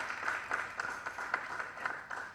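Audience applause at a Pakistani film event, a steady wash of clapping from a crowd held at moderate level through the clip, with no voices over it.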